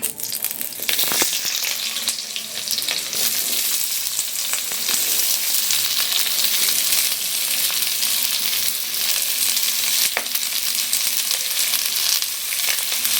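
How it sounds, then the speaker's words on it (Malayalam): Sliced onions and cumin seeds frying in hot oil for paneer masala, a dense steady crackling sizzle held at close range for the whole stretch, with a few sharper pops and no speech. "അര ടീസ്പൂണ് ജീരകം ഇട്ട് കൊടുക്കാം. ഉള്ളി ഇട്ട് കൊടുക്കാം."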